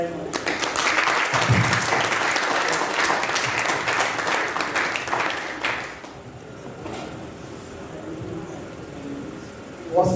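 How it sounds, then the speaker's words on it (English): An audience at a book launch in a nurses' setting gives dense, sustained applause for about six seconds, then the clapping tails off into murmuring and scattered claps. "Once again, a round of applause."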